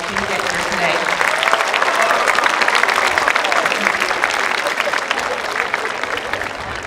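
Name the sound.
graduation audience applauding parents and families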